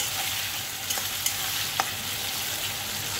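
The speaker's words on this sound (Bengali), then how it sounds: "তাহলে পেঁয়াজটা তাড়াতাড়ি ভাজাও হয়ে যাবে আর পেঁয়াজটা ভাজাটা মচমচেও হয় ভালো" Onions fry in a pan as the base for a spicy mutton curry, a steady close sizzle with a few sharp clicks of stirring against the pan.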